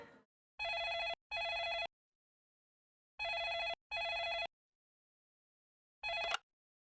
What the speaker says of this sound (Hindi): सिद्धांत, तुम्हारा फोन है।